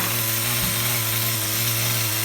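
A small nitro engine in an HPI RS4 Nitro F150 RC truck runs on a bench, giving a loud, steady, buzzing drone with a constant pitch and no pauses.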